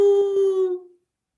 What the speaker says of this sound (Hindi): फिर से कुत्ता शुरू हो जाता है